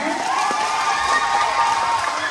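Pageant audience at a Miss Gay Bukal contest in Tagkawayan, Quezon, giving steady, dense crowd noise with broad clapping and cheering throughout, moderately loud and continuous.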